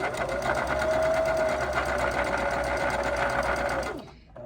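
A sewing machine stitches a seam in one steady, close run of rapid needle strokes that continues for about four seconds and then stops abruptly.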